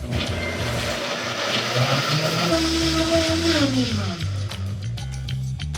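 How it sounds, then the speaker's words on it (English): A blender whirring through a sauce mixture thickened with arrowroot starch and tomato paste, a loud, steady motor hum whose pitch rises and then drops as the blades work, with a few clicks near the end. "Blend everything together"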